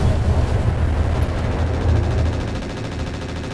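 Inferno weapons unloading in the BattleTech mod Roguetech: a dense, continuous, loud roaring barrage with rumbling low end that barely lets up for several seconds, fading slightly toward the end.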